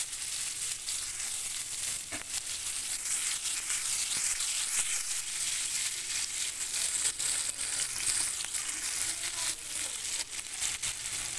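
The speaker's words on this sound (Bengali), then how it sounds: "এবার যে তেল আছে কড়াইয়ে, গরমই আছে, এবার সেই তেলের ভিতরে আমি দেব পেঁয়াজ কুচি" Chopped medium onion frying in hot oil in a wok, a dense continuous sizzle close up with crackling bursts, steady and loud throughout with no talking.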